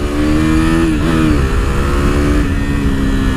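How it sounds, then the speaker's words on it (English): KTM RC390 sports motorcycle accelerating hard in second gear, a loud, steady engine roar with rising revs and a brief dip around a shift-like change, heard up close without talk. "And so this really goes. Look, second gear. This is a proper fast bike."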